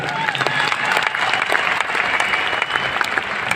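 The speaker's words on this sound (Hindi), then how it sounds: "एक जोरदार ताली आप लोग अपने लिए बजा देंगे।" Audience at a training seminar claps loudly and steadily, a dense wash of applause filling the whole moment.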